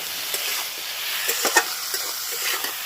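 Spices fry in a pan while being stirred, a steady soft sizzle with a few light scraping taps from the stirring, fairly close and moderate in level.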